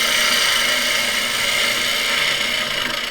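A wood lathe gouge cuts into a turning bowl at a slower speed, making a steady, loud, close scraping hiss that continues without a break for about three seconds.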